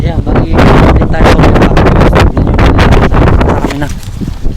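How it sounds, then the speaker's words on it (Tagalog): Heavy wind pounds the microphone outdoors at a tilapia fishing spot in Cupang, Muntinlupa, a dense continuous rumble mixed with close speech for most of the clip, easing slightly near the end. "Kahit malakas yung hangin, grabe."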